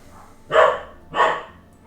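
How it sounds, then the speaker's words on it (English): Two loud barks from a dog indoors, spaced about half a second apart and close by, with quiet room tone in between. "So my dogs were going crazy for some reason."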